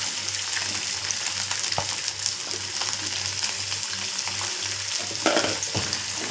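Three chopped medium tomatoes sizzle and fry steadily in a pan, a loud, constant hiss with occasional stirring scrapes and no talking.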